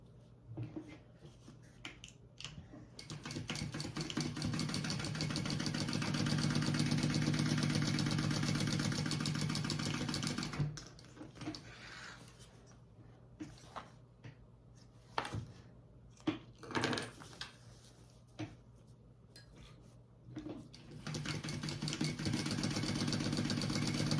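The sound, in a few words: sewing machine sewing a slip pocket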